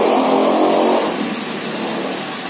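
A carburetor car engine runs during a spark plug check, loud and close, with a rougher surge at first settling into a steady idle-like roar.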